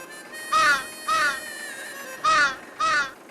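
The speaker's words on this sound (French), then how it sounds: "Un corbeau?" A crow caws four times in two pairs, harsh and loud, with a pause between the pairs and a faint steady background hum.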